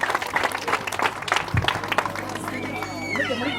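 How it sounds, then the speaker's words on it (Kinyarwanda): Applause from a church congregation during a Christian gathering, brisk clapping and crowd noise, with a voice rising over it toward the end. "dukomere Imana amashyi menshi cyane kuri iki gikorwa"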